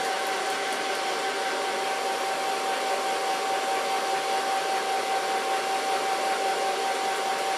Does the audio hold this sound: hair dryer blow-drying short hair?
yes